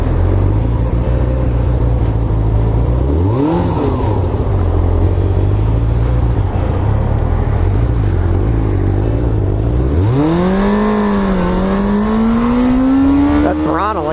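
Small 400cc motorcycle with 11,000 miles, engine idling low then revving up in rising, strained pitch sweeps as it accelerates away, loud and close, with a voice talking over it.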